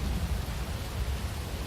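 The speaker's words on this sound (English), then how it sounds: "It's raining." Rain falls steadily in a Roblox game, a dense, even hiss with a low rumbling wash underneath and no voices.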